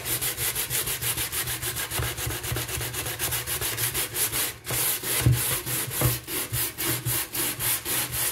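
A car headlight is sanded with a sanding disc from a RAYHONG headlight restoration kit, the wet disc giving a close, steady rhythmic scrubbing with repeated back-and-forth strokes and one brief pause midway.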